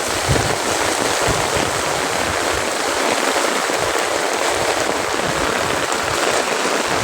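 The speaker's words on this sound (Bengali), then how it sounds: "এই যে দেখেন অনেক বৃষ্টি পড়ে" Heavy rain pours down in a dense, steady hiss that stays constant and loud from start to finish, with no voices over it.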